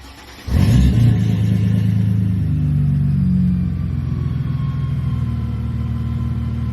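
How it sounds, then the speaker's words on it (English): Mercedes SLK32 engine fitted with an 83mm throttle body fires up with a loud burst, then settles into a steady, deep, rumbling idle that continues close by with no talking. "We're going to do the first fire up with it. See what it sounds like."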